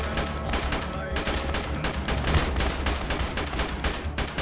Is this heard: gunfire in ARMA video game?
yes